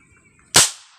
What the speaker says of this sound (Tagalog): Try natin yung baril ni kuya.